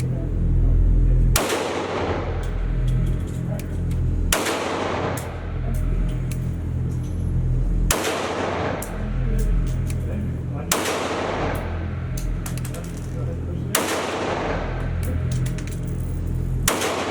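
Ruger 5.7 pistol fired at an outdoor range, with five sharp, loud shots spaced a few seconds apart, each leaving a short echoing tail over a low rumbling background.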